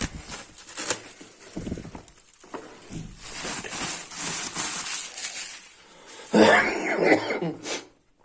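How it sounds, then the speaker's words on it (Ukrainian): A few coughs and throat clearing near the microphone, with a burst of rougher coughing toward the end. "Вибачаюся за кашель."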